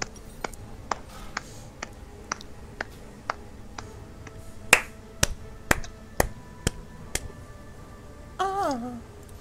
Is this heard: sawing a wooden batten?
no